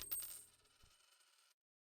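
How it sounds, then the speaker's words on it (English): A single coin drops and rings out as a game sound effect in Warsim: The Realm of Aslona, a bright metallic clink with a short shimmering tail and a small bounce before cutting to silence. "There's the odd sound effect there. I heard a coin falling."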